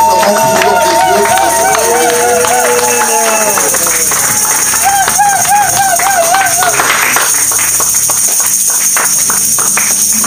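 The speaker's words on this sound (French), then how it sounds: "Avec les acclamations et les joies. Acclamons pour l'homme de Dieu." A church congregation at a special Sunday service cheers and acclaims a guest preacher, a loud sustained roar of voices, shouts and clapping with high ululating calls rising above the crowd throughout.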